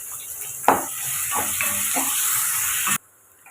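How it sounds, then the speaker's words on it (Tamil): Onion and chopped tomatoes with salt sauté in a pan for a home-style fenugreek kuzhambu. A close, steady sizzle runs under sharp stirring knocks, then stops abruptly. "சேர்த்துட்டு தக்காளி வதங்கிறதுக்காக கொஞ்சம் உப்பு சேர்த்து வதக்கிக்கலாம்"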